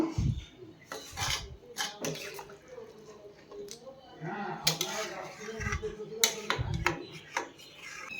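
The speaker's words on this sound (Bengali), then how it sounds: "জল দিয়ে দিয়েছি এবার একটু ভালো করে মিশিয়ে নেব" A curry is stirred in a pot after water goes in, with a spoon knocking and scraping against the metal in irregular clinks and sloshes. A voice talks quietly in between.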